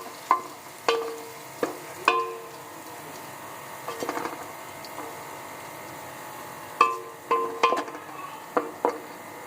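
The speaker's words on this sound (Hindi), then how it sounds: "अब इसके अंदर हम डालेंगे आधा चम्मच ज़ीरा। इसको सिर्फ हल्का सा मिक्स कर लेना।" Cumin seeds stirred into browned onions in a pan, with intermittent scraping and clinks of a spoon against the pan over a faint sizzle, irregular strokes at close range and no talk.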